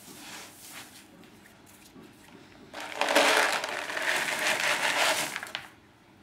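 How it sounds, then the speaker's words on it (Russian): Dry ingredients for carp groundbait, starting with two kilograms of breadcrumbs, are stirred and tossed by hand, giving a soft crunching, rustling crumble that swells loudly midway and then fades, with no talking. "Смешиваем наши сухие ингредиенты. 2 килограмма панировочных сухарей."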